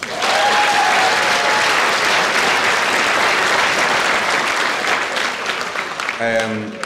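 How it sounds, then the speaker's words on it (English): Audience applause fills the room, a loud, dense and steady clapping that runs unbroken for several seconds before a brief tonal sound cuts in at the end. "Round of applause."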